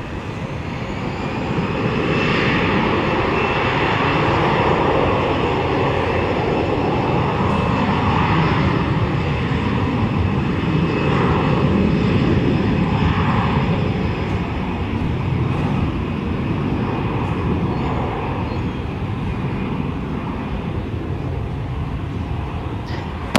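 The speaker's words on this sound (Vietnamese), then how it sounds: "chiếc máy bay đã được lệnh cất cánh rời khỏi sân bay Tân Sơn Nhất" Vietjet Air Airbus A321 taking off from Tan Son Nhat airport, a loud sustained jet engine roar holding steady throughout with a faint whine on top, heard without talking.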